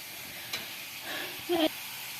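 Masala spices for chicken curry frying in a pan, a soft steady sizzling hiss that runs throughout, faint and close, with voices briefly heard over it.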